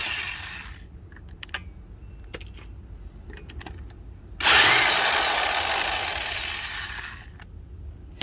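An impact wrench running in reverse whirs loudly for about three seconds after scattered clicks and taps, then winds down; a close, buzzing mechanical burst.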